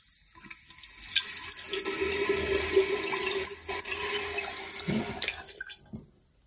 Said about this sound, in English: Water came back out of here and it filled the bowl up a little bit more.